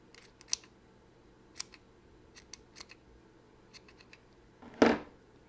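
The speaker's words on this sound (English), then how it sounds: "I want to cut this down in half." Scissors snip craft material for a holiday lantern centerpiece, a series of faint, sparse clicks and small cuts followed by one louder, longer slicing snip near the end, with no talk.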